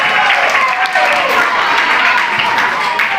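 Students at a heated school council chair candidate debate break into applause, a dense, loud ripple of clapping from a crowd filling the room, with voices faintly mixed underneath.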